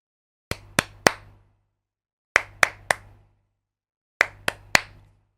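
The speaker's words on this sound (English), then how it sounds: "I've recorded my little test in there along with some clapping." Sharp, loud hand claps come in three groups of three, each clap a hard, clipped transient with a short ringing decay, separated by silence in a home recording setup.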